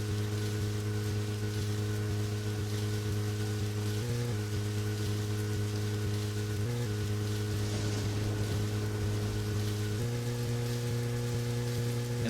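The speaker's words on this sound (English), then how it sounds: "It's still raining" Rain falling in the video game Deadly Premonition, a steady, even hiss of rainfall over a constant low electronic hum, unbroken throughout.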